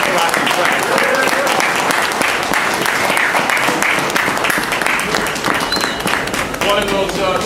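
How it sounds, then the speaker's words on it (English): A large crowd applauds steadily and loudly throughout, a dense wash of clapping with faint voices mixed in. "So let's give a great round of applause for Keith Rocky Pratt."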